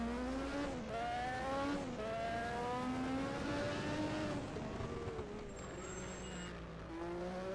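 Formula 1 cars at the 1986 Detroit Grand Prix street circuit, engines howling loud and continuous with rising and falling pitch as they accelerate and brake, plus brief tire squeal as the cars slide between the walls.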